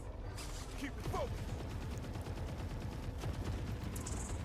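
Gunfire in the video game The Forever Winter crackles over a steady, rumbling battlefield din, with scattered sharp shots at moderate volume and someone speaking over it.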